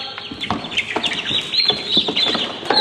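Chickens cluck in short, irregular bursts close by, with soft chirps mixed in and a faint high hum in the background.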